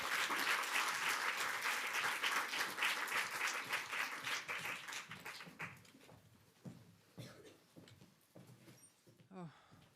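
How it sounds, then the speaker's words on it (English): Seminar audience applauds loudly at the close, a dense burst of clapping that thins into scattered individual claps and fades, with a few voices murmuring near the end. "One last round of applause,"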